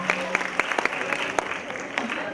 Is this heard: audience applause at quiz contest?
yes